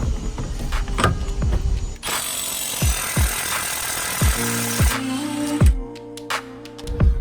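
A socket tool works on the rear axle nuts of a Renault during a disc and pad replacement, loud close bursts of impact-gun-style rattling mixed with metallic clanks and ringing taps.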